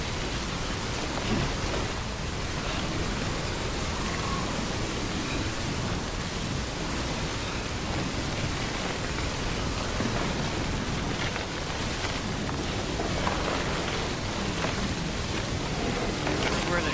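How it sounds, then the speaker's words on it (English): Rain falls in the video game Death Stranding as a dense, constant hiss, with a steady wash of drops at an even level throughout. "Can I get under here and get out of the rain?"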